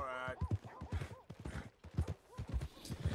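A horse's hooves clip-clop in a quick, even rhythm in Red Dead Redemption 2, close and clear, while people talk over the hoofbeats.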